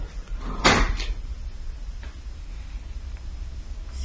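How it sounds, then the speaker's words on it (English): An attic door swings open by itself with a single sharp creak and bump, followed by quiet room tone and a few faint ticks. "The door to the attic somehow opens on its own"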